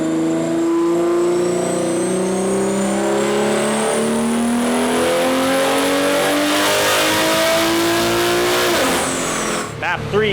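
A BMW G80 M3 running a JB4 Pro map 3 at 34 psi of boost roars through a sustained full-throttle dyno pull, its loud engine tone climbing steadily for about nine seconds before lifting off near the end.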